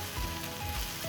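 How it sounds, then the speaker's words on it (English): Mushrooms frying in a pan for pulled BBQ mushroom sliders, giving a steady close sizzle and crackle that continues without pause, with no talking over it. "it's just frying"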